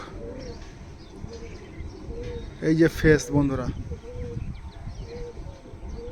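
Teddy pigeons in a loft give soft repeated coos through the scene, while someone speaks briefly near the middle over them.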